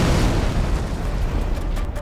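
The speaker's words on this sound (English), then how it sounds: "I give the command to fire." A tank gun fires in battle, giving a loud, heavy boom that rolls on as a dense, continuous rumble for about two seconds with no voices over it.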